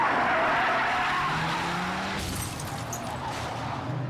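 Race car tires skid and screech as a car spins out coming off turn 11 during a race, a loud sustained scrub of rubber with engine noise and a rough crashing rush near the end.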